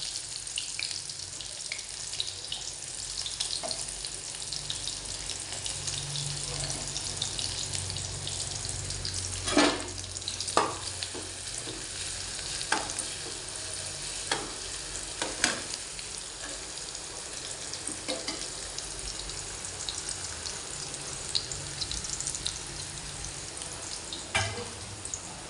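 Curry leaves and onions fry in hot oil, a steady low sizzle with scattered sharp crackles and occasional clinks of a utensil over about twenty-five seconds in a home kitchen.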